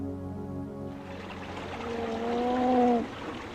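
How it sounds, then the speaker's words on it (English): An angry giant salamander makes a low droning, harmonic call that slides into a rising, whale-like groan, with a wet gurgling background, close and fairly loud with no talking. "that is the sound of an angry giant salamander"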